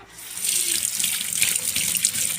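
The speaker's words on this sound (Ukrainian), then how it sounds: "не хочу шуміти водою" Water running steadily from a kitchen tap while fish is washed, a loud continuous hiss and gush close by with no speech.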